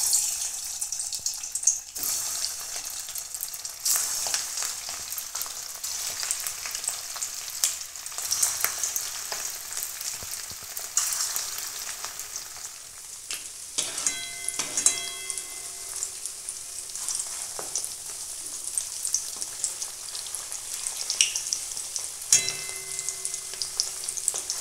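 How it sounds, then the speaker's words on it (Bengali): Vegetable koftas frying in hot oil on a gas stove, a steady loud sizzle and crackle throughout, with occasional clinks and stirring sounds. "এখন এগুলো আমি ভেজে নেব।"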